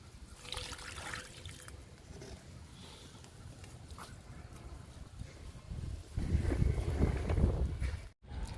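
Liquid fertilizer trickles and splashes as it is poured onto flowering plants, quiet and close, with a louder, fuller pour building near the end before a brief stop.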